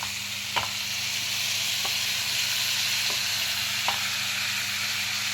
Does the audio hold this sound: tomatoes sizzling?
yes